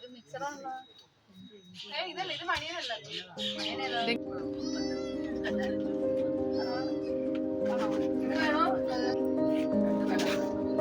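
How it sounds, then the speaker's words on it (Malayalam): A blue-eyed kitten meows repeatedly near the start, its calls rising and falling, while people talk over it; a steady hum of background chatter fills the rest. "ഇതാണ് അന്നേരം കണ്ട പൂച്ചക്കുട്ടി"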